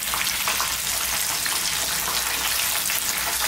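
Chicken pieces slow-frying in a pan for homemade crispy fried chicken, a dense, steady close sizzle with fine crackling bubbles throughout, no voices.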